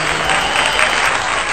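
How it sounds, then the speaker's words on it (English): Short burst of applause from a small group, steady dense clapping at close range from start to finish with no speech over it. "let's give a round of applause for that"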